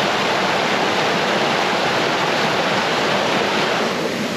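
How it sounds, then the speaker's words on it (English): Fierce river water rushes through a mountain trail crossing near Klondike Notch, its level down slightly, in a loud, unbroken roar, close by and alone with no voices. "So we're back at this water crossing"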